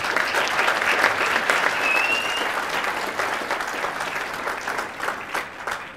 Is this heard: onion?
no